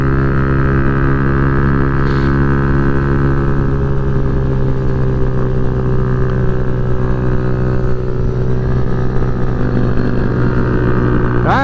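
A Kawasaki Z125 Pro motorcycle ridden at full throttle, its small engine giving a loud, steady, buzzing drone close up, with wind noise, holding a nearly constant pitch throughout.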